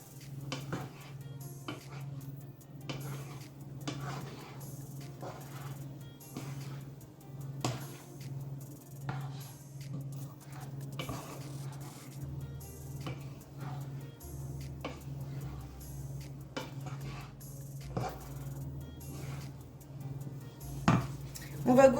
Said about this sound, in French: Ici, je mélange.